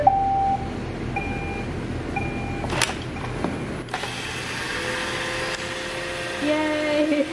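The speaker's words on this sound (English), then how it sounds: "Ruby is my Roomba vacuum, that's what we call her" A Roomba robot vacuum cleaner starts up indoors with a few beeps and mechanical whirring, then settles into a steady motor hum and brushing drone, close by with light household clatter.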